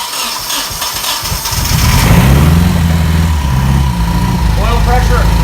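A built Nissan KA24DE engine cranks and fires up, then settles into a loud, rough, close idle, with voices talking over it.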